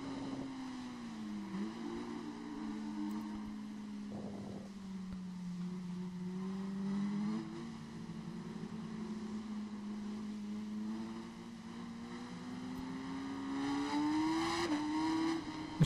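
Motorcycle engine in the racing game RIDE 5 on the Interlagos track, droning steadily for the whole stretch with pitch rising and falling through tight corners, alone and fairly close.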